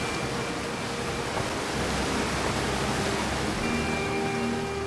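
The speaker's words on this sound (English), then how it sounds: "can I get this waterfall behind me to try to block it out a bit?" A roaring waterfall in Outer Wilds fills the scene with dense, unbroken white-noise rush, loud and constant throughout with no voices.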